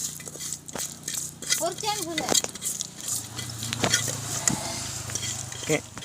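Fish being mixed with rock salt and crushed cashews at a village cooking spot, with irregular scraping, clinking and wet stirring sounds under talk and background noise.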